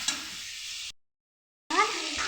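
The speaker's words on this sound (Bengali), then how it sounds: "হালকা করে ভেজে নিচ্ছি, চিকেনটাকে ভেজে নিচ্ছি" Chicken pieces fry in a pan and get stirred lightly for a potato chicken curry, a steady sizzle broken by a short silent gap and then a scraping stir with a faint voice-like trace.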